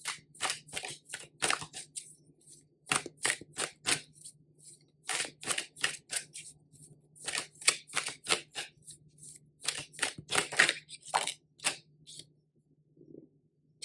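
A deck of tarot cards being shuffled by hand, bursts of crisp riffling and flapping cards in quick repeated clusters with short pauses between, close and clear with no talking.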